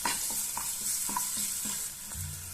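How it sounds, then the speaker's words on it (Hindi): Spice masala with finely chopped green chilli frying in a pan, a soft steady sizzle broken by regular scraping strokes of a spoon stirring the mixture, close and moderately loud, no talking. "अब हम अपने इस मसाले को अच्छे से भून लेते हैं इस तरह से।"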